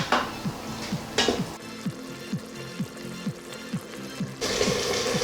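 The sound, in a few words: stirring sloppy joe sauce in an Instant Pot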